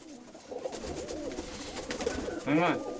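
Domestic pigeons coo nearby in a loft, soft throaty warbles running through the clip and building to a louder, clear coo near the end, with faint background noise.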